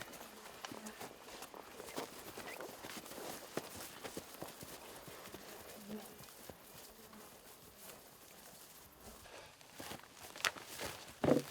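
Horses carrying loads on a Wyoming buffalo archery hunt walk along with hooves clip-clopping in an uneven rhythm, fairly close and moderately loud, over faint outdoor background.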